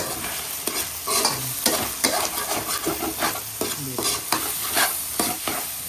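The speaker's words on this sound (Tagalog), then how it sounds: "Tunog na ang ating sibuyas." Onions sizzle and crackle steadily in a hot pan as lomi is cooked, with repeated stirring scrapes layered over the frying hiss at close range, and no one speaks.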